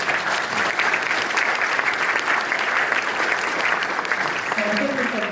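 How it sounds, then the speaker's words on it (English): A crowd claps steadily throughout, dense and sustained applause with a few voices faintly audible near the end. "I think we need a clap for the team"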